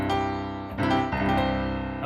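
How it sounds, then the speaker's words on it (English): A major chord rings out full and sustained, then is struck again twice, each attack blooming into bright layered tones. It is close and fairly loud, with no voice over it. "a major chord sounds like this."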